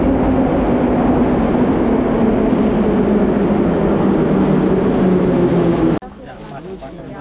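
A Tashkent metro subway train rumbles loudly and steadily, a dense low roar with some voices mixed in. It cuts off abruptly near the end, leaving a much quieter background.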